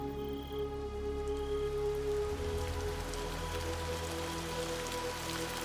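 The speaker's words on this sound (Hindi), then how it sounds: "और जाते जाते इतनी जोर से बारिश होती है" Heavy rain pours down in a steady, loud, continuous hiss, with sustained musical tones running underneath throughout.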